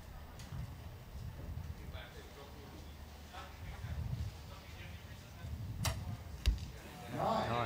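Arrows are loosed and strike in a men's compound archery quarterfinal in Rome: a few sharp releases and thuds, spaced apart, under steady commentary and crowd murmur.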